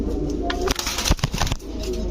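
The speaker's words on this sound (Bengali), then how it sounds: "খুব ছটফট কবুতর" Close pigeons coo softly at a pigeon farm against a loud, noisy background, with brief rustling and wing-flapping sounds.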